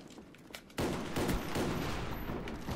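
Gunfire from a video game shooter, the weapon firing through a wall: a sudden dense burst of rapid shots starts about a second in and keeps up as a loud, continuous barrage to the end, with no talk.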